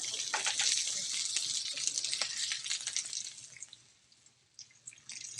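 Cooked penne pasta water drains from a pot into a strainer, a steady broadband pour with trickles and splashes that tapers off near the end.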